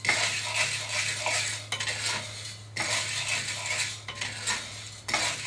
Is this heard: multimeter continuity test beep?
no